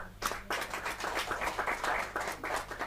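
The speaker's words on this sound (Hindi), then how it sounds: "जोरदार तालियां" A crowd claps at a Hindi poetry recital, a short burst of hand claps from many people that carries steadily to the end without any voices.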